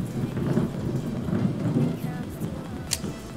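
Thunder from a lightning strike in Minecraft rumbles low and rolling over a wash of rain, steady and fairly loud, with a sharp crackle near the end.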